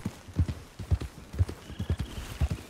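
A horse's hooves clip-clop in a steady, even rhythm as it moves along in a video game. The beats are close and clear, with no one speaking over them.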